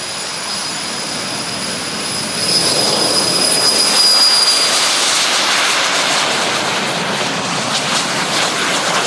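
Cold War era jet aircraft running their engines on a runway at an open day, a loud steady broadband roar with a thin high whine that swells slightly partway through, no voices.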